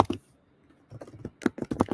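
Quick clusters of keystrokes on a computer keyboard, a short burst of typing, then a brief pause, then a faster run of close, crisp clicks.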